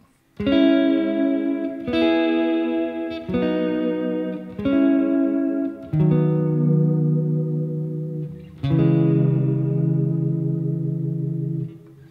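Reverb-soaked electric guitar notes, played with a tremolo arm, ring out one after another, each swelling with a slight warble and decaying slowly, played alone without talk.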